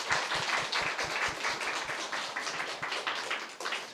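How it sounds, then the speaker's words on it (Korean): A church congregation claps to welcome four visiting pastors. The applause is moderate and distinct, with individual claps audible at first before it blends into a steady patter. "우리 육문채 목사님 네 분 오셨는데 한번 일어나시면 우리 박수로 환영하겠습니다"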